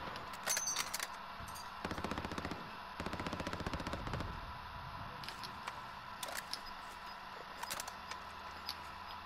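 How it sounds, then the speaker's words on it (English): Gunfire in a Call of Duty battle royale match, several bursts of rapid automatic fire with short pauses between them, plus scattered single shots, fairly close and sharp over quiet game ambience. "We're getting shot at now."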